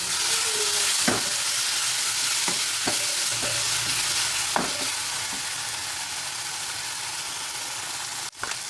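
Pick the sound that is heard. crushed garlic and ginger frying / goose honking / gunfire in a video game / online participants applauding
crushed garlic and ginger frying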